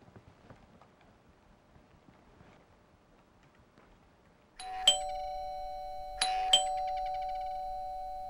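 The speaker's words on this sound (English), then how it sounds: "You rang my doorbell?" An indoor doorbell sounds twice, each a clear two-tone ding-dong chime with ringing sustain, following a few seconds of faint, quiet room sound.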